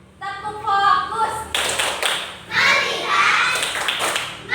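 Children in a classroom group counseling session chant together and then break into rhythmic rounds of clapping for a focus clap chant, the clapping close, loud and sharp.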